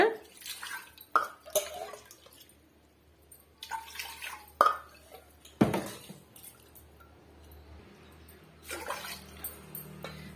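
Water measured out by the cup, about three cups in all, splashes into a pressure cooker in a home kitchen, in short bursts broken by metal clinks of cup against pot, with quiet gaps between pours.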